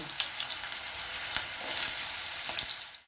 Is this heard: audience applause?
no